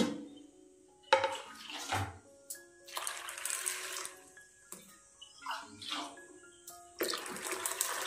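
Water is poured over pulses set to soak in a home kitchen, with splashing and running water broken up by clattering dishes and utensils nearby.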